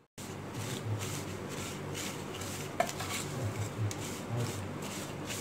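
Vermicelli roasting in ghee in a pan for a sweet Hyderabadi dish, a low steady frying hiss with occasional soft spatula scrapes and a single sharper clink, close and even throughout.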